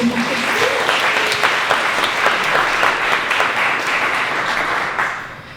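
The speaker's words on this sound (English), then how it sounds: "Let's give him a round of applause." Steady audience applause at a community issues session, dense, even clapping from a crowd that holds loud throughout and then tapers off at the end.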